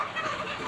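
Brief burst of native chickens clucking as they squabble over feed, several birds close and overlapping, no talk.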